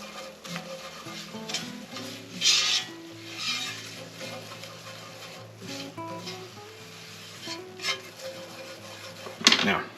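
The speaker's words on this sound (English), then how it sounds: "We want to stir this pretty continuously because we do not want it to burn." A butter and flour roux is stirred continuously in a pan with scraping strokes and a soft sizzle, over quiet background tones and no talk.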